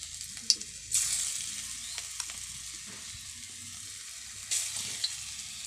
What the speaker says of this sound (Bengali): এরপর আমার বড়াগুলো দিয়ে দিচ্ছি তেলে